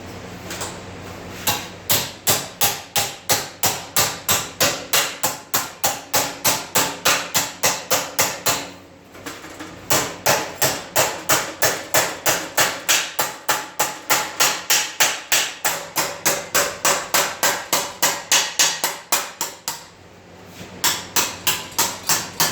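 Sheet metal for a car trunk floor is hammered over angle iron clamped to an I-beam, a rapid, evenly spaced series of sharp metallic taps with two brief pauses, close and alone.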